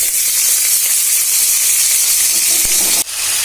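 Pirandai (adamant creeper) sautéing in sesame oil in a pan: a loud, continuous sizzling hiss close by, with a sharp clink near the end.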